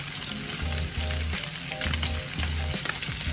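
Butter sizzling in a very hot pan with seared scallops, a loud steady frying hiss with crackle and rhythmic low bubbling pulses, close and without voices.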